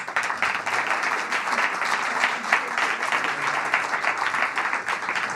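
A studio audience applauds two guests on a French television show, a dense, steady wash of clapping sustained and fairly loud throughout with no voices over it.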